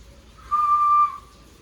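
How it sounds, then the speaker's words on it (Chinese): A person gives a short demonstration of whistling with the mouth: one clear steady tone held for about half a second against a quiet room, close and alone. "大家知道口哨要怎么吹吗？"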